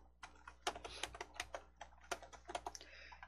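Quick bursts of typing on a computer keyboard as a search term is entered, a fast irregular run of close key clicks with no talking.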